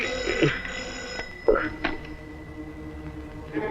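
A telephone rings in a Malayalam film scene, with a sustained electronic bell tone and several louder pulses over a busy background.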